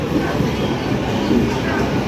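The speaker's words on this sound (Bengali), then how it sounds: "এই ট্রেনটা হচ্ছে সম্পূর্ণ লেডিস স্পেশাল, মাতৃভূমি" A Matribhumi ladies special local train rumbles along the rails near Naihati station, a steady loud low-pitched roar heard from inside the carriage.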